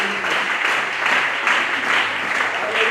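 A church congregation applauding during a service, dense sustained clapping throughout, loud and close, with a faint voice beneath.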